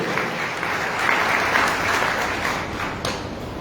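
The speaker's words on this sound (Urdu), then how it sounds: "آپ سب کی زوردار تالیوں میں جشن آزادی آپ سب کو بہت مبارک ہو" A church congregation at an Independence Day service bursts into loud, thick applause, a continuous wash of many hands clapping close by for the whole stretch.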